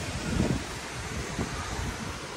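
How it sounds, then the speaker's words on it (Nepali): A strong, dangerous wind blows hard against the microphone during a storm, producing a continuous rough rumble with a louder gust near the start and no speech. "यस्तो डेन्जर हावा चल्नु थाल्यो"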